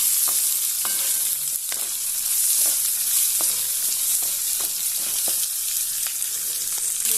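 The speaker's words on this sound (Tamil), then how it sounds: "இந்த வெங்காயம் நல்லா ப்ரௌன் கலராக வதங்கி வரணும்." Onions fry with cloves, pepper and star anise until browned for a Chettinad toor dhal gravy, giving a loud steady sizzle broken by repeated light utensil taps against the pan.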